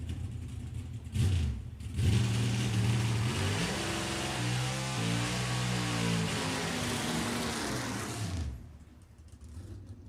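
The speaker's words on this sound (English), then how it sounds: "This is an NHRA legal pro stock." A newer Camaro NHRA pro stock drag car runs during testing at a nostalgia drag racing event, its engine roaring loud and steady for several seconds with rising and falling revs before cutting off to quieter background noise.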